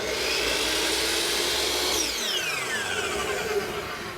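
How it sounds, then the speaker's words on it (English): A power tool cuts wooden slats for a rocking horse's bow rocker in a shop: a steady, loud whining drone that drops away sharply partway through, then a fading high spin-down, with no talk. "I'm cutting out my slats for my rocker here that we built yesterday"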